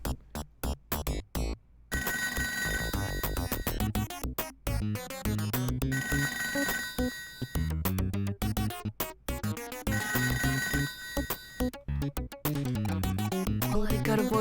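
Telephone ringing in the ToeJam & Earl video game, a repeating electronic ringtone pattern that sounds in steady bursts over backing game music for about fourteen seconds.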